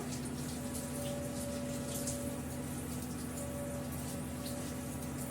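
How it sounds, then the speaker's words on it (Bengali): Bay leaves are rinsed under a steady stream of running tap water, a continuous close splashing flow with a faint background hum, as ingredients are prepared for a meat biryani. "কয়েকটা তেজপাতা নিয়ে পরিষ্কার করে ধুয়ে নেব"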